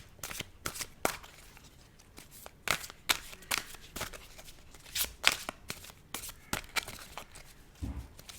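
Tarot cards are shuffled and drawn by hand in soft, repeated riffles and sharp flicks, close and fairly quiet, in an irregular rhythm with faint background noise.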